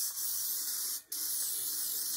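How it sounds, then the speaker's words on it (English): Cleaner sprayed onto a Revereware pan lid: a steady, close hiss of spray running the whole stretch, briefly cut by a short pause in the middle before resuming. "spray some more on here."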